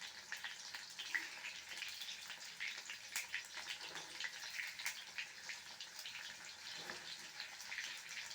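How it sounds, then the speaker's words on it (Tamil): Masala-coated sardines sizzling in hot oil, a soft, continuous crackle and spatter with small pops throughout, fairly quiet and without voices. "இப்போ மசாலாலாம் போட்டு நான் இதை பொரிக்கவே ஆரம்பித்து காமிக்கிறேன்"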